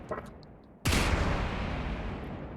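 The Marauder opens fire during a video game durability test: a sudden loud burst of gunfire after a near-silent start, then sustained rapid shots that fade slowly, heard alone with no talk.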